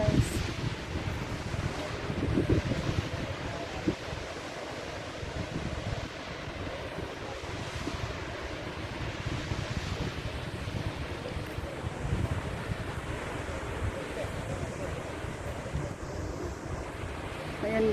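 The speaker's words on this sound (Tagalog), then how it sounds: "bumabagsak na tubig galing sa bundok, mountain rock falls." Water pours down mountain rock in a desert wadi with a steady, broad rushing roar mixed with wind buffeting the microphone throughout.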